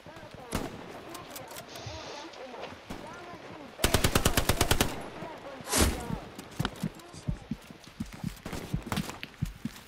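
Rapid bursts of aircraft machine-gun fire from a strafing run in Hell Let Loose, sharp rattling volleys peaking loudly midway amid scattered shots and footsteps, with voices speaking over parts of it.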